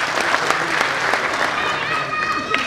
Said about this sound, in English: So round of applause for him, first of all.